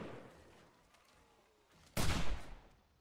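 A single loud, close rifle shot from a hunting rifle in a video game cracks out after a quiet stretch, with a short booming tail.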